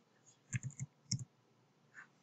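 A computer mouse clicks sharply several times in a quick cluster, then another short pair, close and clear over a quiet background.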